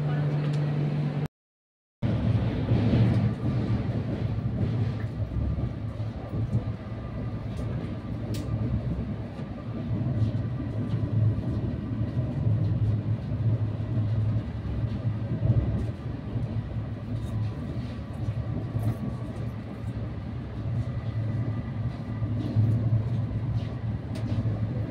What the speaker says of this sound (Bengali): তোমরা দেখো এই যে ট্রেন ছুটে চলেছে নিজের গতিতে